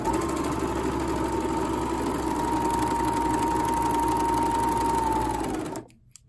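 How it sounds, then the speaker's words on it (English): A sewing machine runs in one steady, continuous stitching burst as the short ends of a neck binding strip are joined for a tank top, humming loud and close before stopping abruptly near the end. "We're going to take the short ends and sew them together."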